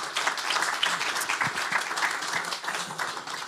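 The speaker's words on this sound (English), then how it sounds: "Give them a big applaud." Conference audience at a Swedish biotech investment panel applauding the panelists, a dense, continuous patter of many hands clapping at even loudness for several seconds, fairly close with no talk over it.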